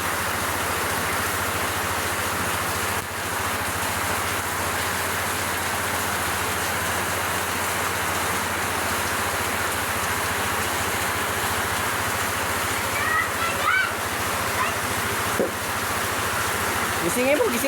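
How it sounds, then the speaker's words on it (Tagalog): Heavy rain pouring steadily outdoors, a dense, continuous hiss of drops on surfaces that stays loud and even throughout, with a low background hum and occasional faint voices. "Sobrang lakas ng ulan."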